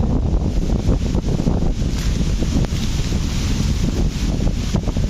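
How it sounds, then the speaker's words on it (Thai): Strong wind gusts through a forest during a heavy storm, loud and close, buffeting the microphone with continuous rough rushing and surging gusts, with no voices. "ลมแรงมาก"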